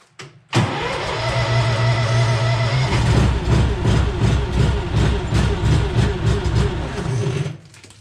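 Skid-steer loader engine cranking and starting, then running loud and close at a steady idle with a rhythmic diesel-like throb for several seconds before cutting off.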